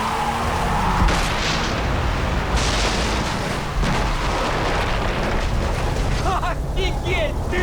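An explosion in the video game Far Cry 3 when a fuel tank is hit, heard as a loud, dense, rumbling blast layered with game noise and steady background roar.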